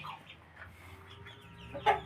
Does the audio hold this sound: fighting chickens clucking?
yes